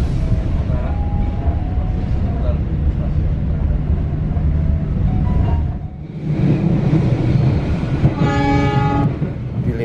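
Baturraden Ekspres passenger train crossing the Cisomang bridge on the Cikampek–Bandung line, a loud continuous rumble of wheels and carriages with a sustained horn tone early on and a brighter horn blast near the end.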